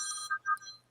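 A mobile phone ringtone plays a short electronic melody of bright, steady tones close to the mic, heard alone with no talking for about a second.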